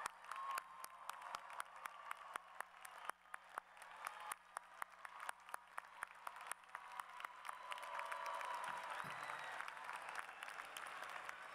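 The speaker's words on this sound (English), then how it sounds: "I'd like the graduates to give a big round of applause to their family who helped make this day possible." Graduates' families receive a round of applause at a university psychology department commencement ceremony, steady clapping from a large seated crowd that builds and swells toward the end.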